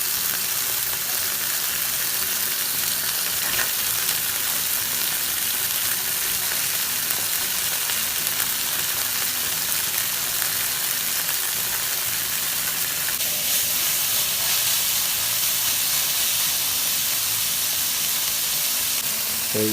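Mung bean sprouts sauté in a hot pan, giving a dense, continuous sizzle and hiss that stays loud and even throughout, with no talking.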